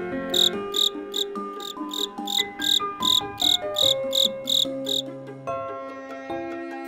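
A steady series of bright, rhythmic chirps, about a dozen evenly spaced pulses, rings out over sustained musical tones before fading into the melody alone.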